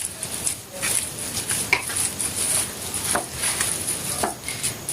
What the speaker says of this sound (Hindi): ऐसे मैं इसके अंदर ब्रेड क्रम्स जो है वो हाथ की मदद से अच्छी तरह से मिक्स करूंगी